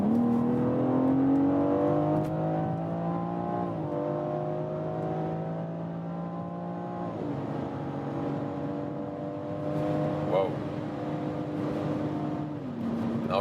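A BMW SUV on winter tires accelerates hard, its engine drone climbing in pitch, then dropping at each of three gear changes. Steady, loud and close, with no talking.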